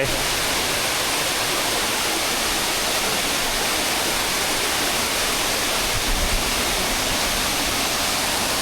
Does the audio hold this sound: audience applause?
no